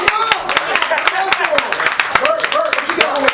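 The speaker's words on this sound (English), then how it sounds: "Everybody clap it" Audience clapping at a hip hop awards show, a steady stream of sharp claps from a crowd, fairly close, running under a voice speaking throughout.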